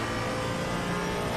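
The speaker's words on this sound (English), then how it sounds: "faster class car approaching" A GT3 or GT4 race car in Assetto Corsa Competizione at Misano, its engine roaring loud and steady throughout, with a broad, dense tone.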